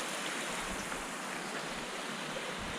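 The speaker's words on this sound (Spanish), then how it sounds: "Voy a filmar hacia la cascada de noche" A small waterfall at night, heard from a bridge, gives a steady broadband rush of falling water that stays constant and unbroken throughout.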